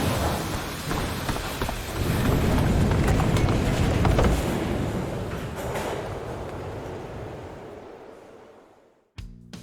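A train at a station in the Tony Hawk's Underground video game gives a loud, steady broadband roar and rumble for about nine seconds that slowly fades, then cuts off abruptly with a brief clatter at the end.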